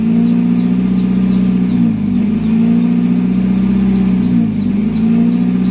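A Nissan Grand Livina engine runs at idle during idle learning, a steady, close hum that dips briefly in pitch twice before settling back to an even drone.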